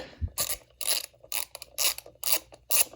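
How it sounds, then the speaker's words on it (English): A ratchet wrench loosens bolts on a totaled Subaru under repair, clicking in six or seven quick, evenly spaced bursts of rapid metallic ratcheting at close range, with short pauses between strokes. "I'm just gonna loosen them up because they're not too tight"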